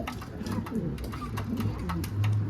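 A show pigeon coos close by in low, throaty, repeated rolling calls, steady and fairly loud throughout the short stretch.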